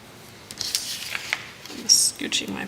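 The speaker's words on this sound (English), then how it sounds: "Scooching my paper around." Paper scooched across a table beside knitting work, with soft scattered rubs and scrapes, a few brighter crisp swishes, close and moderately loud, no talking.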